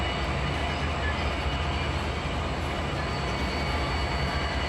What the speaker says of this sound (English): DPUs, distributed power mid-train.